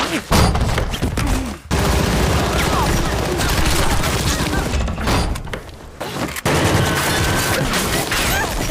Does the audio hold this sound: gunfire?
yes